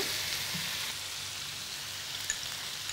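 Chicken pieces just added to hot garlic in a pan for black pepper chicken, a loud steady hissing sizzle that eases slightly after the first second, with a couple of faint clinks and no talking.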